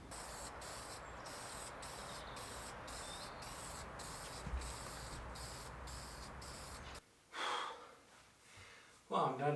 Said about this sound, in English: I'm going to spray paint the cable duct in light brown so it matches the ceiling.